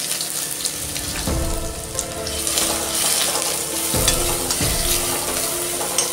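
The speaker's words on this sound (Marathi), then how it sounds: "तर त्याला चांगली फ्राईड करून घ्यायची" Ginger garlic paste fries in a pan with cumin and bay leaf, giving a loud steady sizzle and hiss with occasional stirring scrapes, close up and with no voices.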